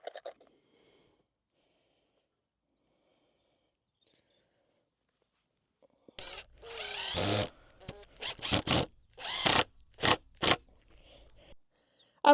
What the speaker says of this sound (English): It should just be a matter of putting some screws in to the corners to join them up.